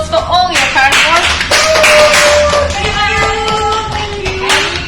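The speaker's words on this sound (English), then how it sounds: "you can give yourself a round of applause for all your card work" Baking contestants in a Christmas cake competition clap for themselves: sharp, close handclaps mixed with chatter and bright tonal voices, loud and uneven.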